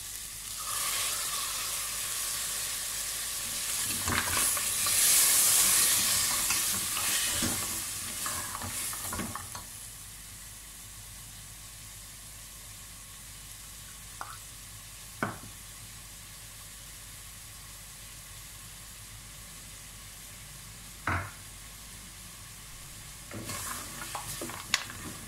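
Yogurt stirred into a cooking pan for a Kashmiri winter dish, with a soft sizzle and scraping stir early on, then quieter simmering broken by a few sharp knocks of the spoon against the pan.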